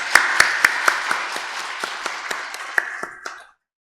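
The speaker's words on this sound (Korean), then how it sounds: "우리 따뜻한 박수로 한 번 더 축복하겠습니다" A Korean church congregation at a Sunday worship service claps in a brisk, even rhythm, the crisp strikes tapering gently before stopping abruptly into silence.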